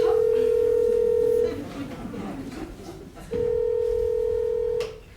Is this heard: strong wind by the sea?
no